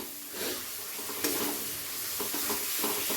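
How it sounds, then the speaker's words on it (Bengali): Spice paste for a Bengali bhetki fish-bone chorchori fries and gets stirred in a pan with a splash of water, a steady close sizzle with repeated scraping stirs throughout. "তো সামান্য জল দিয়ে আমি মশলাটাকে একটু কষিয়ে নিলাম।"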